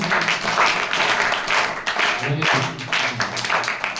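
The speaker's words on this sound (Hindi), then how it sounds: "वेरी गुड, इसमें तालियां बजाओ" Schoolchildren in a classroom clap together, a lively uneven burst of many small hands that swells and dips in waves over a few seconds, with a faint voice underneath.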